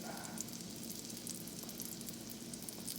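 A salmon patty frying in grease in a skillet gives a steady, close crackling sizzle, bright and constant with small pops, and no talking over it.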